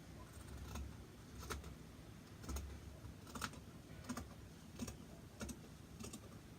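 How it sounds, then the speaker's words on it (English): Fabric scissors snip through dress fabric in a series of crisp, evenly spaced cuts, about seven quiet clicking strokes over a soft room background with no talk. "I'm going to cut out this using my fabric scissors."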